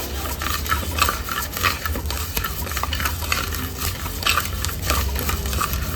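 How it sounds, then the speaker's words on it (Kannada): Coriander seeds dry-roasted slowly in a pan for a Coorg-style black masala, stirred with steady scraping strokes and a soft dry rustle, close and even throughout. "ನಿಧಾನವಾಗಿ ಧನಿಯಾ ಕಾಳನ್ನ ಹುರ್ಕೊಳ್ಬೇಕು"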